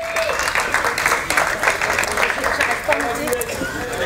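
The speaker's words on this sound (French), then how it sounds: "on peut l'applaudir parce que c'est courageux" A theatre audience at a live stage show breaks into steady, dense applause, clapping continuously and fairly close for the full stretch, with a faint murmur of crowd voices mixed underneath.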